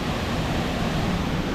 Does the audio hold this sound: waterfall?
yes